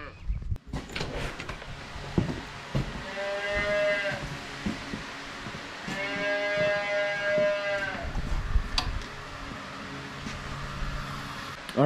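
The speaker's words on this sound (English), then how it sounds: "Those are our bulls." Bulls on a small dairy farm mooing, two long drawn-out bellows a few seconds apart amid scattered clanks and knocks of farm activity, fairly near.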